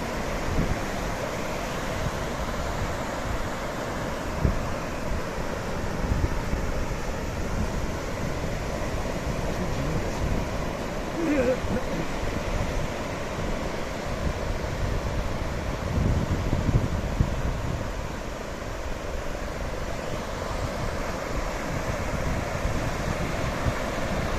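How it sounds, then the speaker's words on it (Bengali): Steady wind off the sea at Puri rushing across the microphone, with a low continuous roar like surf beneath it, no voices. "এত হাওয়া ঠান্ডা মিষ্টি হাওয়া"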